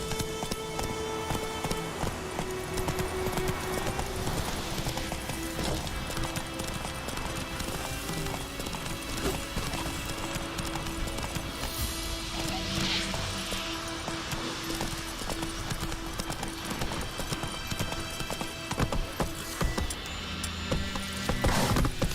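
Roach the horse's hooves clip-clopping in The Witcher 3, a steady galloping rhythm running the whole way under a dense bed of game sound and mechanical clatter, with an occasional whinny.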